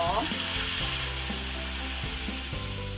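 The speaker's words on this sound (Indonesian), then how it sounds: "Setelah bawang putihnya ditumis wangi, kita masukin kecap asin." Minced garlic sautés in oil, a dense continuous sizzle close by with brief scraping stirs, and no talking.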